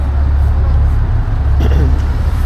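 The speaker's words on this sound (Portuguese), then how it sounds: "Carros e caminhonetes." Cars and pickup trucks drive onto a ferry with a loud, steady low-end rumble from the vehicle deck, briefly overlaid by a voice and a few short clanks.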